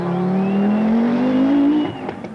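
A works Audi Quattro rally car at the Safari Rally: its engine drones steadily and climbs smoothly in pitch for about two seconds, then cuts off abruptly, leaving a few faint knocks.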